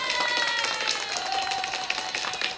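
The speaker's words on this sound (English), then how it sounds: "give a round of applause to Dr. Jaya and of course Madeline" Audience applause, a dense wash of many hands clapping steadily throughout, fairly close and continuous with slight swells, no voices standing out.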